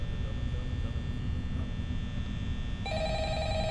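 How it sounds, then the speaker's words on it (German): An old telephone rings in the video game Five Nights at Freddy's over a steady low electrical hum, its bright trilling tone rising clearly near the end of the stretch. "Telefon!"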